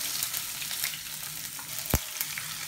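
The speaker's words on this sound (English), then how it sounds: "Add seeds to hot oil." Seeds sizzle and crackle steadily in hot oil in a pan as the base for an egg curry, a close, continuous hiss with one sharper pop near the end and no talk.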